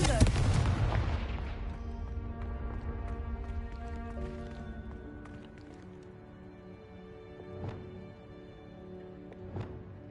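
A Confringo fire spell explodes in the Hogwarts Legacy video game, a loud boom that bursts at once and then fades into a long rumbling tail, with two smaller thuds following later.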